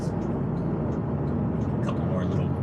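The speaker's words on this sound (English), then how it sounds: "A couple more little rev matches there." Toyota GR Corolla engine blipping the throttle for automatic rev matches during downshifts, a steady loud drivetrain and road roar inside the cabin under continuous talk.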